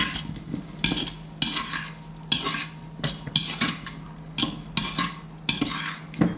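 A spoon stirs sugar into berries in a bowl for crème brûlée with drunken berries, scraping against the bowl in repeated bursts about every half second, close and distinct with no talking.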